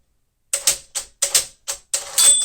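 Tab stops being set on a 1964 Smith-Corona Sterling manual typewriter: about seven sharp, close mechanical clacks in quick uneven succession, each with a short metallic rattle, ending in a slightly longer ratcheting clatter.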